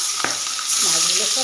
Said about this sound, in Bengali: মাছগুলো দিয়ে দিলাম, এই পিঠটা ভালো করে ভেজে নেব